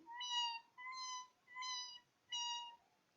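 A human voice imitates a kitten's meow, four drawn-out, high, tonal mews in an even rhythm with short pauses between, close and clear against a quiet background.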